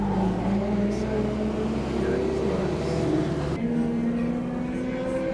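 Cars lapping an autocross course at California Speedway during an 86 Fest meet, a steady engine drone with shifting tones carrying on throughout, moderately near, over a dense outdoor crowd background.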